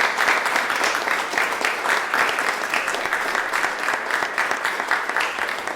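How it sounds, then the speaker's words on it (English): A conference audience at the Museum of Architecture and Design in Ljubljana gives a sustained round of applause for a speaker. The clapping is dense and even, fairly loud and close, and goes on for several seconds with no talking over it. "let's make some good vibrations with a big round of applause for Miss Findori"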